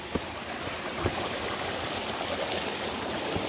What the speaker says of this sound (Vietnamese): Đang theo dòng suối.